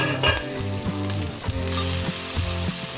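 Curry leaves crackle and sizzle in a small amount of hot oil while a cauliflower and cabbage poriyal is cooked, a loud, continuous frying hiss with a few sharp pops and a tonal hum running underneath.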